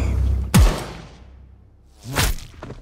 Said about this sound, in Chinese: 随着枪声响起，雇佣兵对着吧台就是一顿火力输出